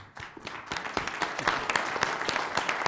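Audience applause at an Albuquerque city council meeting, a steady patter of many hands clapping throughout, moderately loud and continuous without voices.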